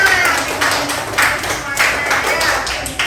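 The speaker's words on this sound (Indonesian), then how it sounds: "tepuk tangan buat semuanya" Quick, uneven clapping from a group of children's hands, several bursts close together with voices mixed in.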